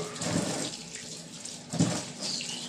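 Tap water running steadily while vegetables are washed, a faint continuous flow with a couple of brief splashes.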